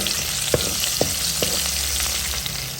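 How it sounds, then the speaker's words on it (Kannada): Constant hot-oil sizzle of tempering spices and split chickpeas spluttering, with sharp little pops and crackles breaking out every half second or so, close by. "ಇವಾಗ ಒಗ್ಗರಣೆ ಚಟಪಟ ಅಂತ ಸಿಡಿತಾ ಇದೆ ನೋಡಿ"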